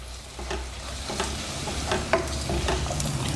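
Whole spices sizzling in hot oil as they sauté for a Tamil-style mutton bone dalcha, a steady frying hiss with a few soft stirring clicks close by, no voices.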